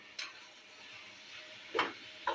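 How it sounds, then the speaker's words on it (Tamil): Tomato and onion dosa mixture with garam masala being stirred in a pan: three quiet, short scraping strokes over a faint, hissing background. "அடுத்து வந்து கிண்டிக்கலாம்"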